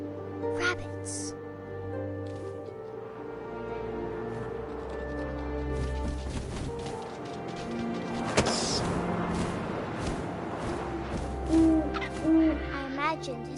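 Owl hoots sound over a sustained musical background with other soft effects, moderately loud and fairly close, with some brief sharper noises partway through.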